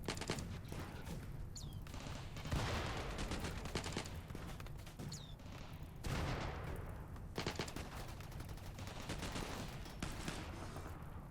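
Gunfire in the colony-building game RimWorld, with dense, continuous volleys of shots and bursts running through the whole stretch, loud and steady with no speech over it.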